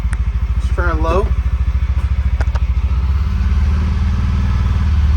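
A UForce 600 utility vehicle creeps forward in low gear, its engine chugging in a steady, rapid pulse close by and swelling slightly toward the end, with a brief voice over it.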